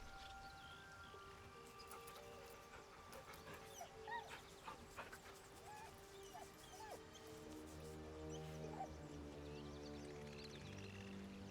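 A dog being petted in the video game Baldur's Gate 3 makes soft whimpers and yips at low volume, over quiet ambient game sounds and faint music, with no talking.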